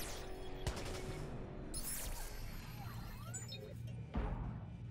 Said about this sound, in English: They are absolutely shooting at me.